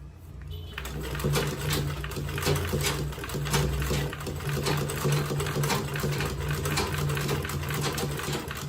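A sewing machine runs steadily at close range while stitching a clutch purse, its rapid needle chatter continuous for several seconds after a brief quiet start.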